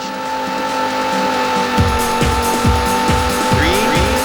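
Race car engines rev in the Sega Saturn game Daytona USA. Loud, steady synthesized engine tones swell in a series of rhythmic revving pulses, with no voices over them.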